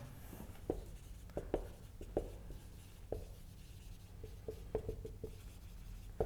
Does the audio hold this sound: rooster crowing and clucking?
no